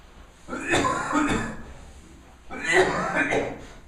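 Two bouts of coughing from a person in a church classroom, each a cluster of rough, throaty bursts, close and fairly loud, with a voice-like quality and no clear words.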